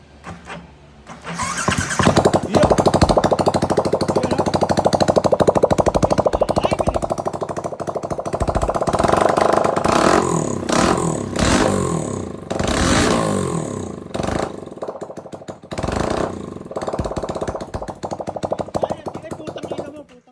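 Yamaha Sniper 230 motorcycle with no exhaust pipe fired up for the first time, harsh rapid popping engine bursts that stutter, catch and rev unevenly, loud and raw with a voice talking in places.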